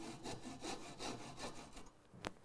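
A hand saw cuts wood along a curved line while a frame saw is being made, with steady back-and-forth rasping strokes in an even rhythm, close up, ending in one brief sharp scrape.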